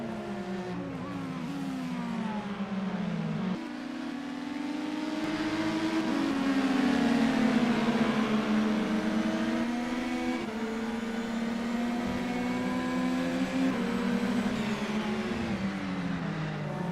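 Race car engine in an IndyCar sim race at Watkins Glen, revving hard and loud with rising and falling pitch through gear shifts, droning steadily close up.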